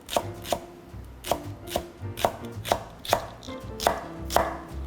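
A knife chops green onion on a cutting board while spicy blue crab kalguksu is prepared, giving a steady run of about a dozen sharp, close thuds in even rhythm.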